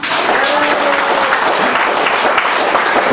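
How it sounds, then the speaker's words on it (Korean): An audience at a Korean speaking event breaks into loud, sustained applause, dense clapping filling the whole stretch at steady volume. "우리 백승복 대표님 정말 감사드리고 다시 한 번 더 뜨거운 박수 부탁드리겠습니다."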